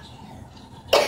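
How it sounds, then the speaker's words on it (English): A single short, harsh cough bursts out close to the microphone right at the end, after a quiet moment. "And I'm really coughing"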